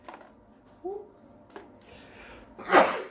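A sharp, brief sneeze bursts out near the end, close and loud, after a stretch of quiet room sound with a couple of small vocal noises.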